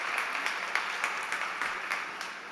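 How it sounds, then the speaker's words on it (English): Steady audience applause at a startup competition event, a short continuous burst of many hands clapping at moderate level. "A big round of applause."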